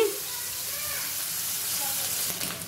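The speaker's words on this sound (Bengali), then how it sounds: "ছোট ছোট চেও মাছ ভেজে নিচ্ছি" Small cheo fish fry in hot oil with a steady, close hiss and crackle that holds at an even level, with a few sharper spatters near the end.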